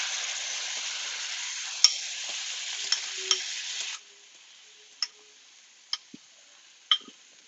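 Beaten eggs cook in a hot pan with a steady, even sizzle that stops abruptly partway through. A few scattered clicks and taps follow in near silence.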